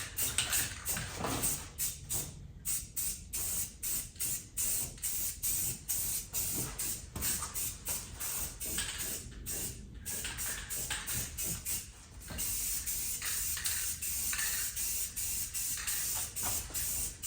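Spray painting a Jeep body green in cold weather, a close continuous hiss of the spray gun in long passes broken by brief pauses, with no one talking.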